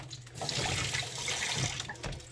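A handful of water hits a hot burger grill and sizzles and spatters in a short, sharp burst of crackling hiss that fades out within a couple of seconds, close but fairly quiet.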